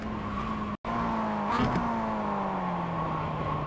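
Mazda MX5 in iRacing at Okayama braking hard and dropping down through the gears, engine pitch falling with a quick rev blip between shifts and a brief break in sound, loud and close.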